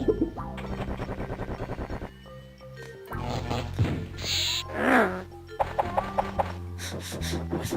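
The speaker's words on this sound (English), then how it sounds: "I do enjoy birds." Owl hooting amid playful game music and cartoon animal sounds in the Spy Fox video game, several short calls mixed into a busy, loud soundtrack with no talking.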